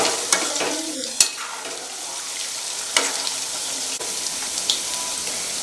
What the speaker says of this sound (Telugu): ముక్కలు అనేవి బాగా వేగాలి ఆయిల్లో